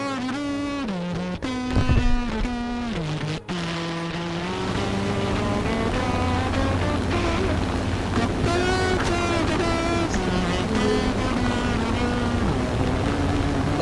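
Droning propeller aircraft engine in the War Thunder combat flight game, a steady tonal hum that dips and wavers in pitch early on with a couple of sharp clicks, then holds a continuous layered whine.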